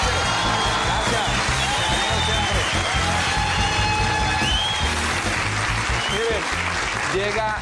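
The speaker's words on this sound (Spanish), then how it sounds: "Un aplauso grande para ellos esta noche." A crowd claps and cheers for the National Police at a lively evening show, steady loud applause with some whoops and music and voices running underneath.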